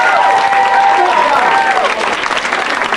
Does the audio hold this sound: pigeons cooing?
no